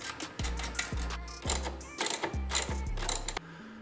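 A ratchet tightens a nut and bolt on a B58 engine intake bracket, close up, in several short bursts of rapid clicks separated by brief pauses.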